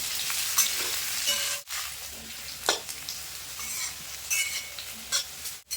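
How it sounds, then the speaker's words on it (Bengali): Potatoes frying in hot oil with a constant close sizzle, broken by occasional scraping stirs and brief pauses. "তো আলুগুলো আমি লাল লাল করে ভেজে নিয়েছি"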